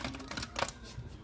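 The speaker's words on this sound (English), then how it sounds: "One more shuffle." A quick, soft riffle of cards being shuffled, a short burst of papery flutters close by with no talking.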